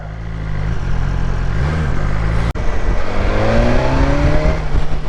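A 2020 BMW S1000XR motorcycle engine revs and accelerates hard, its rising tone climbing loud and close, briefly interrupted by a sharp click before it pulls up again.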